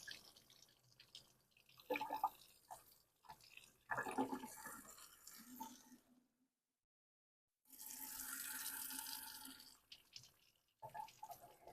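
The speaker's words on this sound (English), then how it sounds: "I'm going to use a barrier to turn the water on." A sink tap is turned on and water runs into the basin for a few seconds, a soft steady splash between quieter bursts of handling and dripping water.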